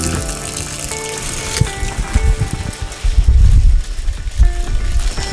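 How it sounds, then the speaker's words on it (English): Water gushes and splashes into an open jerry can during irrigation on a jackfruit farm, a loud, uneven pouring with surging low splashes and background tones throughout. "This is a process of putting the water."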